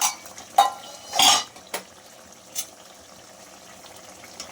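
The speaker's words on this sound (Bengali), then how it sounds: "6-7 মিনিট হয়ে গেছে, আমি এবার ঢাকা খুলছি।" The lid of a cooking pot of catla fish in curd is lifted with a metallic clank, followed by a few lighter clinks against a soft simmering background.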